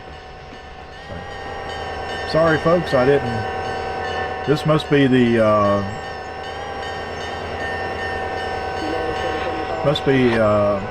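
A Zephyr passenger train in the Trainz 22 railroad simulator sounds a series of horn blasts in short bursts over a low rolling rumble, while someone talks throughout.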